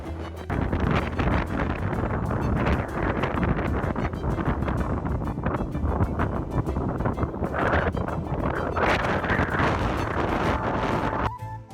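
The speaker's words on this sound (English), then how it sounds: "the wind was insane again" Strong, constant wind gusts roar and buffet across the microphone on an open hillside hike near Sneem in County Kerry during a winter storm, loud and unbroken for the whole stretch.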